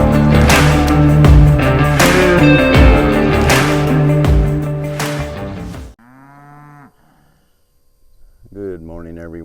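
Cattle in a dry paddock moo loudly and close, overlapping calls for several seconds, followed after a quiet gap by a couple of separate drawn-out moos.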